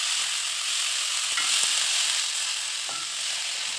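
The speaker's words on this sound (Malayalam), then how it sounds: "ഇനി നമുക്കിത് ചെറുതായിട്ടൊന്ന് വഴറ്റിയെടുക്കണം." Chopped pea leaves with salt sautéing in a pan for thoran, giving a steady close sizzle with a few light clicks of stirring.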